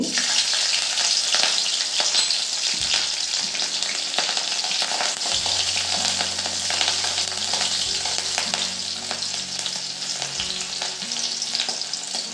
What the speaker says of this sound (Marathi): तापलेल्या तेलात मी हिरवी मिरचीचे तुकडे टाकते